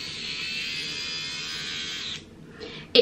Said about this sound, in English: I am going to use this little contraption. It is basically like a face shaver.